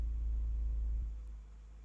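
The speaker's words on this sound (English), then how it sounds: "Bit of a rough idle." A BMW 128i with the N51 engine idles roughly after a cold start, a low steady rumble that eases slightly in level partway through, close and alone with no talk.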